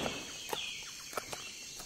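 Chickens cluck as a radio drama sound effect, a few faint, scattered clucks and short calls over a steady background hiss, with no talking.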